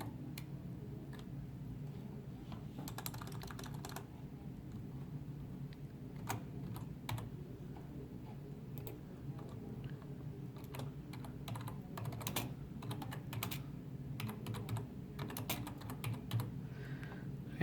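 Typing on a computer keyboard, with rapid, close key clicks in irregular bursts over a low steady hum and no one speaking.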